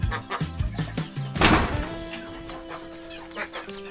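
Chickens on a rural farm in Laos cluck in quick, close bursts, with a dull thunk and other farmyard bird calls mixed into a busy outdoor background.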